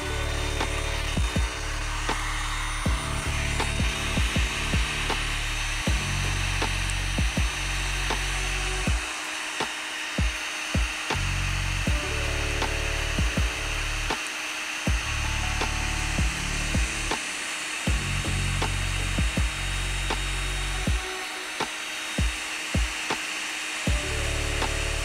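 A heat gun blows on a OneXplayer X1 handheld's panel adhesive, a loud, steady motor whine and airflow hum running throughout, with small clicks and handling knocks and brief dips in the drone.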